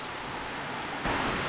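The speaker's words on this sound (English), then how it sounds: "it's raining, but not that much." Steady rain falling outside a rural country home on an evening, a continuous soft hiss of drops that swells a little louder partway through, with no talking.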